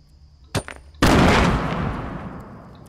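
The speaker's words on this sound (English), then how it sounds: "It's impossible to survive a headshot with the bolt action sniper." A single loud bolt-action sniper rifle shot in Fortnite, a sharp close crack followed by a long rolling echo that fades out, preceded by a brief smaller click.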